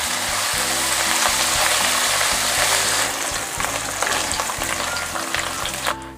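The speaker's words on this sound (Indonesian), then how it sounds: "Selanjutnya ikan teri jengkinya juga saya goreng ya." Small dried anchovies fry in oil over a low flame, a loud continuous crackling sizzle with bubbling oil, close and steady for several seconds with occasional stirring and no talk.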